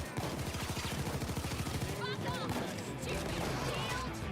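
Rapid gunfire from snipers in the heist game Payday, a dense continuous volley of shots with crackling impacts lasting several seconds, moderately loud game audio.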